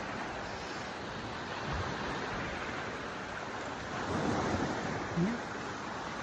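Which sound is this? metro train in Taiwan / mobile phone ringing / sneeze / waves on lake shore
waves on lake shore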